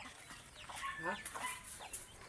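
Farm chickens clucking close by, a quick run of overlapping clucks and short calls over a soft background hiss.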